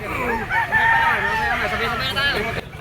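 At a Chinese New Year gamefowl sale, a rooster among yellow-legged talisay stags crows in a long wavering call, nearby and loud, over a busy backdrop of voices and crowd babble.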